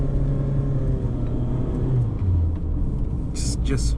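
A Toyota RAV4 engine rumbles low and steady from inside the cabin, its drone rising in pitch as the SUV accelerates, with faint vehicle noise throughout.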